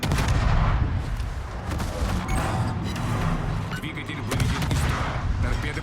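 Naval guns boom in repeated heavy salvos during a World of Warships destroyer battle, loud and dense with overlapping blasts and rumbling across the stretch, a voice faintly present underneath.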